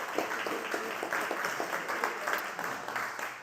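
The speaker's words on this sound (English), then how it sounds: "let's give our panel a big round of applause" Crowd at a pub politics event applauds a panel of guests, a steady dense wash of many hands clapping, sustained and moderately loud with faint voices mixed in.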